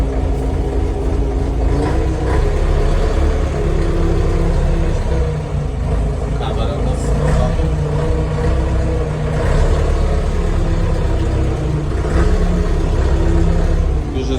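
A Scout TY-404 mini tractor's engine runs inside its cab, a loud, steady low rumble that holds without a break throughout.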